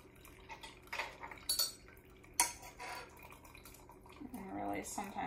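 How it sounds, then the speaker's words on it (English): Herbal infusion poured through a kitchen strainer makes a soft trickling sound broken by metallic clinks and clatters of utensils, with a voice faintly heard toward the end. "I'm just going to pour this into a strainer."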